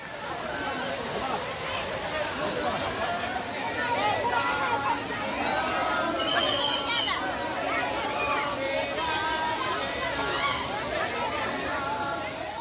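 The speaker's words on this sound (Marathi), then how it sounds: "या ठिकाणी आंघोळ करण्यासाठी खूप लोकांची गर्दी होती" A crowd of people bathing at a big waterfall behind a temple: a steady roar of falling water mixed with busy overlapping chatter and shouts, continuous and fairly loud throughout.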